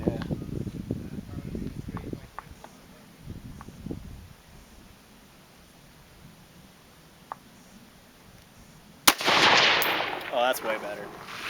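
A single sharp rifle shot cracks out loudly during offhand target shooting, followed by a burst of rustle and noise, after earlier low murmured talk and quiet stretches.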